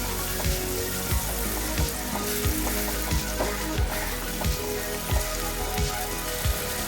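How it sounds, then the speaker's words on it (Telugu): Tamarind juice with chilli pieces fries in a pan, producing a loud, dense, rain-like sizzle. Sharp pops and spatters recur every half second or so, and no one speaks. "ఇప్పుడు ఈ చింతపండు జ్యూస్లో పచ్చివాసన పోయేంత వరకు మనం బాగా ఫ్రై చేసుకోవాలి"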